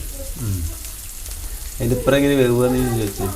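Oil fries in a non-stick pan with a steady, moderate sizzle running underneath, while a person talks over it for most of the time.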